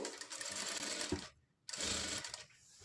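A sewing machine stitches piping around a blouse neckline in two close, loud bursts of rapid whirring separated by a brief pause.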